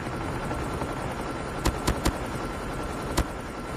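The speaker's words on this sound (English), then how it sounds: "Stealth chopper inbound." A stealth chopper helicopter from a video game flies in as a steady, loud rotor roar, broken by four sharp gunshot cracks, three close together and one a moment later.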